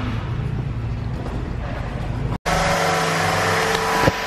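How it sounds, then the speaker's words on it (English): Car being driven on a short test drive, a steady engine drone with road rumble, cut briefly by a short gap before the engine note returns slightly louder and brighter, with a faint rise near the end. "Dave's just taking it for a quick test drive."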